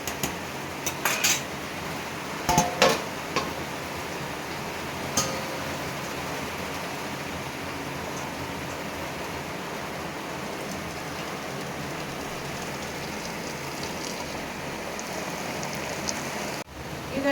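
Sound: draining starch water from boiled rice for chicken biryani

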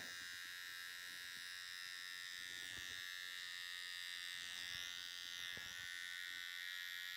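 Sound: electric hair trimmer cutting a woman's hair

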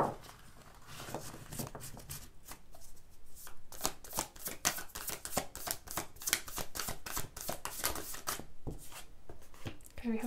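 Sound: tarot cards being shuffled

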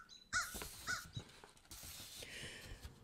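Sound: crows cawing

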